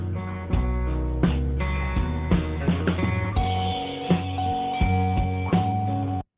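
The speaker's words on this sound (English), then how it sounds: "What you're hearing is the hold music that plays" Social Security Administration phone hold music: a steady synthesized instrumental loop with sustained tones and regular plucked accents, playing continuously at even volume.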